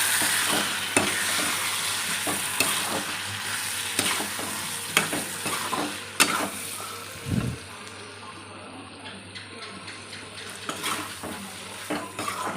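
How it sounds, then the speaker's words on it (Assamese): Duck meat with pumpkin frying in a pot, a continuous close sizzle broken by repeated sharp scrapes and knocks of a spoon stirring against the metal over several seconds, with no one speaking. "হাঁহৰ মাংস বনাই আছোঁ কোমোৰা দি"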